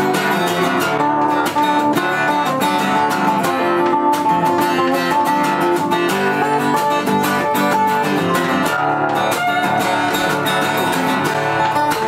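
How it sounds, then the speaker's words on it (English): Full country music band in a Nashville setting, playing loud and continuous with dense guitars and steady rhythm, no talk over it. "cause real country music sounds like this."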